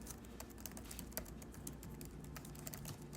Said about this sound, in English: The Steelseries keyboard is solid as usual and is quite quiet to type on.